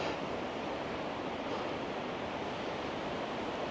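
A swollen river rushes in Wales during a storm, a dense, steady roar of flowing water close by with no voices over it.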